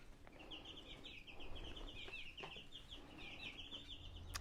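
Several hens in a backyard garden coop making soft, repeated clucks and short chirping calls in a loose, irregular rhythm, fairly faint and close, against a quiet outdoor background.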